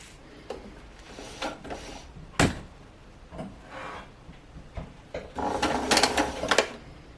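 Domestic sewing machine stitching elastic onto fabric to gather it, heard in short bursts of whirring stitches with pauses and small handling clunks, loudest toward the end.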